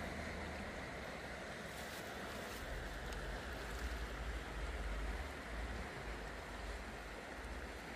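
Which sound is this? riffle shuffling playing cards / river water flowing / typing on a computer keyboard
river water flowing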